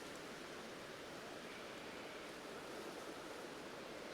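Steady rushing water in the video game Pokémon Legends: Arceus, a continuous broadband hiss like a stream or waterfall, constant in level with no other sounds.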